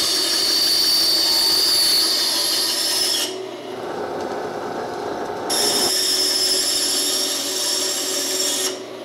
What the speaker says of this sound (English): So I'll just cut that out on the bandsaw real quick and drill a bolt hole down